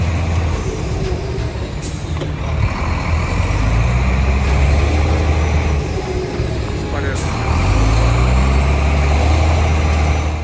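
A heavy truck engine labours and revs in deep mud, rising and falling in strained surges over a loud rumbling bed, with a narrator speaking over it.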